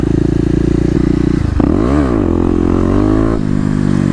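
Kawasaki KLX250 dirt bike revving hard through a wheelie, a loud close engine drone that rises and falls in pitch, dips sharply mid-run, then climbs again with some clatter.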